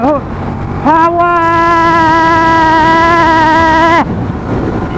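A Ducati Diavel 1200cc motorcycle accelerates close by with a loud, sustained engine note that holds steady for about three seconds and then cuts off, with wind rushing around it.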